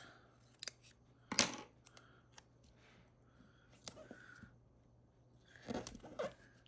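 Scissors cut paper in a few short, crisp snips with quiet gaps between, close and soft against a faint background hum.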